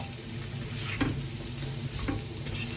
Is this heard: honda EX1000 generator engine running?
no